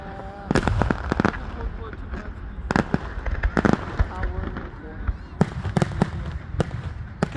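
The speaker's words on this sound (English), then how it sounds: "that firework was way too big, even on for camera" Large fireworks explode in a rapid, irregular string of loud booms and sharp cracks, mixed with crackling bursts over several seconds, with voices faintly in the background.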